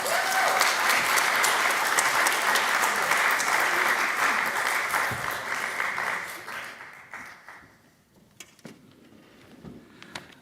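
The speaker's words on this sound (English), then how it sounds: "Yeah, you can clap." Loud, dense applause from a synagogue congregation at a Shabbat evening service greets a new board president, holding steady for several seconds before thinning out and fading to a few scattered claps.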